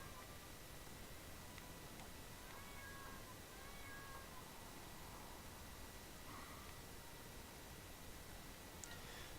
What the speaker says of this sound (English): Now the cat will make some noise